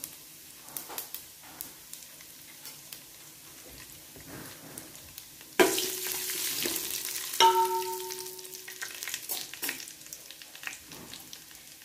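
Cumin and caraway seeds dropped into hot oil for tempering, a faint crackle that jumps to a sudden sizzle partway through and then slowly fades, with light clinks of a spoon.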